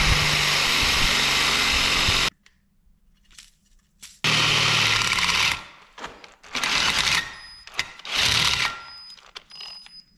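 A drill bores into metal for engine swap mounts, lubricated with WD-40, giving a loud, close, high-pitched whine that runs steadily, cuts out, then returns in several shorter bursts separated by quiet gaps.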